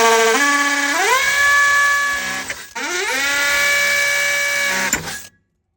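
A power drill fitted with a 3/8-inch bit bores holes for 3/8-inch bolts in a truck, its whine climbing in pitch as it spins up, running steadily, then stopping briefly and ramping up again for a second long run close by.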